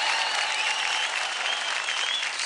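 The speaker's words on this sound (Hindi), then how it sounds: "जोरदार तालियां हो जाए" Studio audience applause at a televised dance competition follows a couple's performance, a dense, even clapping wash that holds steady and moderately loud for the whole stretch, with nobody speaking.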